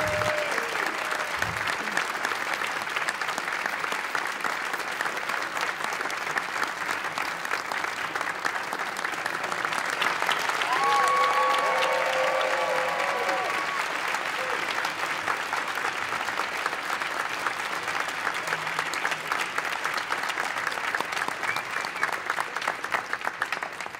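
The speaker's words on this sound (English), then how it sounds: "Please join me in giving a thankful round of applause to Diane Adler." Steady audience applause fills a large hall at an American Cinema Editors event, a dense wash of clapping that swells slightly midway and holds at a constant, fairly loud level throughout.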